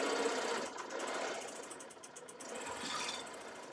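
A sewing machine races through free-motion quilting at a brisk, slightly uneven pace, a continuous mechanical whir that dips briefly mid-run and picks up again, close and moderately quiet, with no talking.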